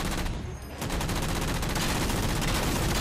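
Mantis Vulcan cannon on the mech's right arm in Halo 4 firing a sustained, dense burst of rapid gunfire, loud and continuous after a brief dip, with no talking.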